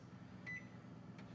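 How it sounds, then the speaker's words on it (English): Two short electronic beeps from an oven timer being set for a batch of homemade slider buns, one steady tone followed after a brief pause by a fainter chirp, over a quiet kitchen hum. "And set the timer for 15"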